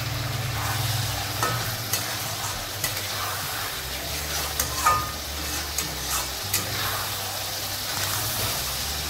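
Shahi garam masala powder and pointed gourd sauté in a pan with a steady, close sizzle, broken by light scrapes and small clinks at irregular intervals.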